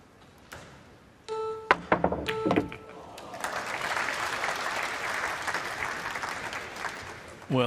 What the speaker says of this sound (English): Well, applause